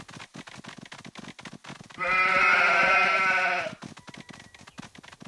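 A single long sheep bleat from a Paw Patrol video game sounds clearly for about two seconds over a busy backdrop of rapid clicking and tapping sounds.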